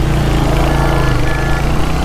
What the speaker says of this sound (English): The exhaust note of this is really awesome.